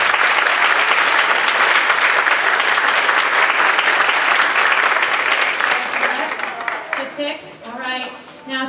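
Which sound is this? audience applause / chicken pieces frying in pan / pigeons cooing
audience applause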